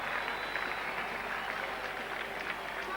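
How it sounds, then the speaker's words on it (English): Applause from a local crowd at an England v West Indies cricket test match at Old Trafford welcomes a batsman, steady sustained clapping heard from a distance with no voices over it. "he's getting a big hand from the local crowd here"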